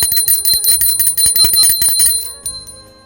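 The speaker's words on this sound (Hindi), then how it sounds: "अब हम घंटी बजा करके उनका स्वागत कर रहे हैं।" A metal hand bell is rung repeatedly during a Janmashtami puja, with bright, rapid clanging strokes that sound loud and close before fading away at the end.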